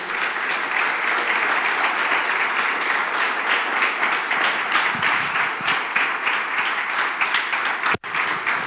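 A church congregation applauds together in a steady, dense roar of many hands, loud and sustained, with one sharp thud near the end.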